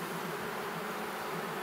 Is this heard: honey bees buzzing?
yes